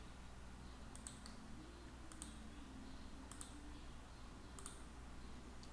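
A computer mouse clicks in sharp double taps about once a second, four times, close and quiet over a faint steady room hiss, used while working in structural design software.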